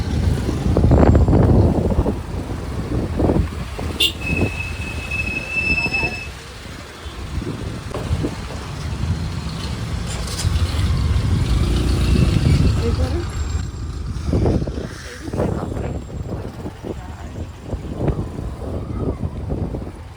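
Heavy road traffic crawls through a dense jam on the way to Varanasi, with engines rumbling and a brief horn blast. People talk nearby over the traffic noise throughout.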